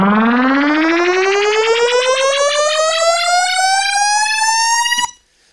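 Synth riser in Ableton with a phaser effect, a loud sustained harmonic tone gliding steadily upward with swirling phaser sweeps for about five seconds before cutting off abruptly.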